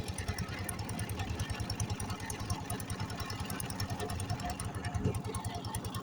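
A boat engine throbs in a steady, rapid rhythm while the boat crosses the Dhaleshwari river at dusk. It sounds close and continuous, with faint wash in the background and no voices.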